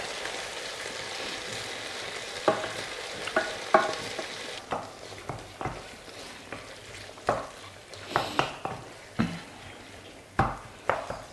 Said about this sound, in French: Remuez toujours bien dans votre tomate.